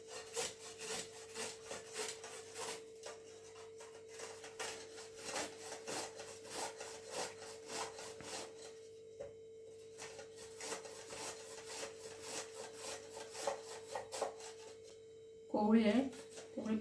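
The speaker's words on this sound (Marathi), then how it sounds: "ही किसून घ्यायची." Peeled raw green mango rubbed against a grater in quick repeated rasping strokes, close and steady, with a brief pause midway and a short louder clatter near the end.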